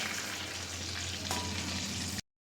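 Spicy crispy KFC-style chicken strips fry in oil with a steady, dense sizzle that holds evenly for about two seconds before cutting off abruptly, close and alone without speech.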